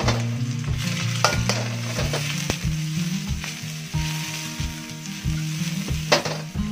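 Garlic and onion sautéing in lard in a pan for chicken feet sopas, a loud steady sizzle with rhythmic scraping and stirring strokes throughout.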